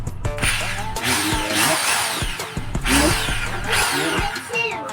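A new 600-watt power drill whirs in short spins during an unboxing test, its motor rising and winding down several times up close, with people talking around it.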